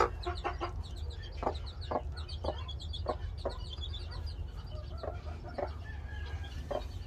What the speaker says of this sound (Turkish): Bir şu civcivlere bir bakalım